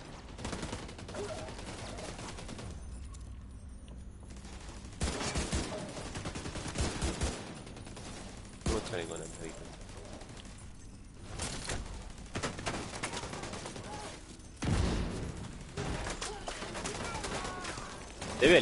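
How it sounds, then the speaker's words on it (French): An allied mini turret in The Division 2 rattles off repeated bursts of automatic fire, loud and near, with choppy breaks between volleys while players talk over the combat. "T'as vu, elle est vénère ma mini tourelle."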